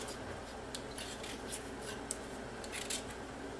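Potatoes being peeled with a sturdy hand peeler give soft, quiet scraping strokes, a steady rasp with faint repeated swipes close by, and no talking.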